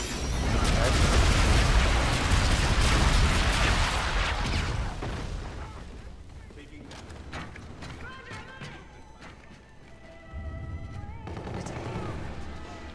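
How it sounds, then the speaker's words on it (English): Orbital bombardment in a shooter video game, a heavy rumbling barrage of explosions loud for the first several seconds, then fading into scattered gunfire and game noise with faint voices. "Orbital bombardment on it."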